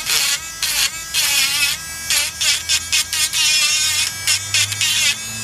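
A Dremel rotary tool strips paint from a doll's leg, whining loudly and close in repeated bursts as it is pressed on and lifted off, pitch dipping under load, with no talking.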